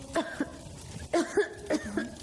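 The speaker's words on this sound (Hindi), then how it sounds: "तुम्हें तो बहुत खांसी हो रही है।" Three short bursts of coughing, each a pair of harsh coughs, close and fairly quiet, with no talking.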